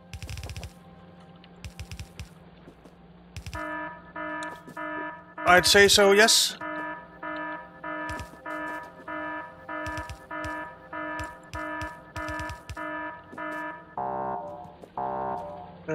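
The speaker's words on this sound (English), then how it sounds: "There's definitely an alarm." An alarm goes off in the factory-building game Factorio, a repeating electronic tone that pulses in a steady rhythm for several seconds amid keyboard clicks, with a brief spoken reply and a burst of other noise partway through.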